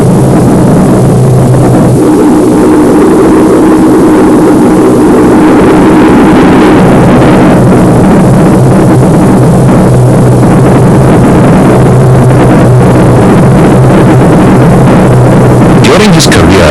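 A reproduction Focke-Wulf 190 fighter plane flying, its loud droning piston engine roaring steadily and continuously, with someone narrating over it.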